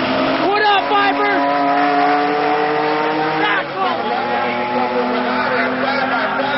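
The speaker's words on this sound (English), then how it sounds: "Viper in the left lane, the Lamborghini in the right lane." A Dodge Viper and a Lamborghini Diablo drag race side by side, their engines roaring and revving through rising gear changes, loud and close, with a faint tire squeal.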